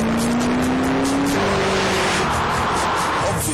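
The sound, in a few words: Ford GT supercharged V8 engine driving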